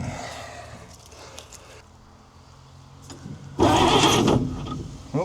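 A 1942 Chev 4WD truck engine cranks over on the starter for a couple of seconds, a loud rough whirring burst that stops abruptly, following quieter shuffling and low background noise.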